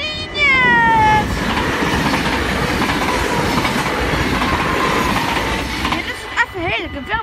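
A double-traction train passes close by: a horn blast opens, then a loud, continuous rolling roar with clattering wheels carries on before thinning out, with some voices nearby.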